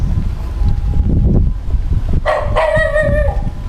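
Two dogs bark outdoors amid gusty wind noise on the microphone, with a short run of sharp, close barks and yips arriving in the second half.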